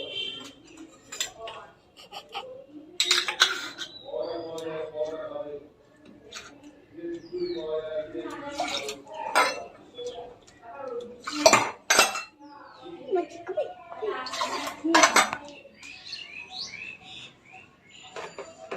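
Metal puja bowls and utensils for the deity are lifted down and handled, scattered clinks and clatters at close range with a voice talking between them.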